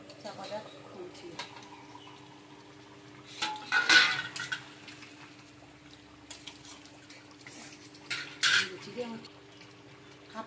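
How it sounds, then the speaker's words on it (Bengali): A lid comes off a pot of chicken curry cooking with potatoes: two brief metallic clatters a few seconds apart stand out over a quiet room, with pigeons cooing faintly and a steady low hum in the background. "8 মিনিট আমার হয়ে গেছে, চিকেনটা আমি চাপাটা খুলছি।"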